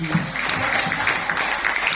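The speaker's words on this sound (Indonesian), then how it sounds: "Boleh tepuk tangan sekali lagi." An audience claps briefly at a geology book launch, a short burst of dense, moderately loud applause with no voices over it.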